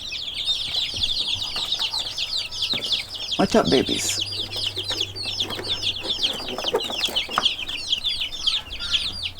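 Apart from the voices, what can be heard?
chickens clucking on a farm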